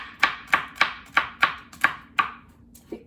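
A kitchen knife minces food on a cutting board for a homemade chicken noodle dish, giving seven sharp, evenly spaced chops up close, then one softer tap after a brief pause.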